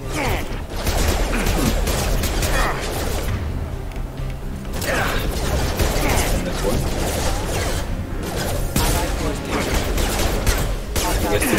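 Gunfire using disruptor ammo against mechs in the video game Mass Effect 2, a continuous dense barrage of shots and mechanical clatter running throughout the clip with steady loudness and brief lulls.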